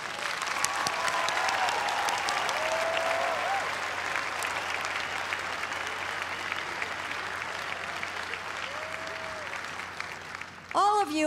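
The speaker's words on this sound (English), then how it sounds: "please join me in a round of applause for the graduates" Audience applause for the graduates at a Boston University commencement ceremony, a dense, steady crowd clapping that fills the whole stretch before tapering at the end.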